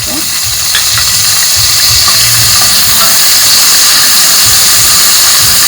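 About ten pieces of washed banana dry fish fry in hot oil for a curry, giving a loud, steady close-up sizzle with light crackles and pops throughout.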